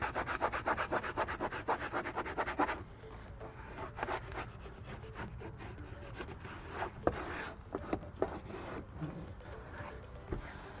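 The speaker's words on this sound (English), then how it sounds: "So I'm going to grab my squeegee." A squeegee smooths XPEL protection film inside a Tesla Cybertruck frunk. It makes close, steady rubbing strokes, dense and continuous for the first few seconds, then lighter and more scattered.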